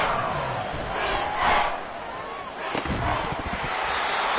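A stadium crowd in a Madden football video game roars and swells loudly, with a sharp burst of noise partway through.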